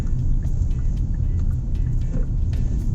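Hyundai Creta 2020 SUV driving through city streets, heard as a steady low engine and road rumble that stays loud and even throughout, with no talking.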